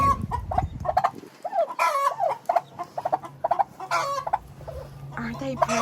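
A mother hen clucks repeatedly to call her chicks, the soft rhythmic clucks close by, with faint background farm sounds.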